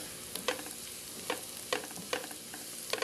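Onion, garlic and ginger frying in a pan with a quiet, even sizzle, with a few spatula scrapes and clicks from stirring at irregular intervals, close and alone.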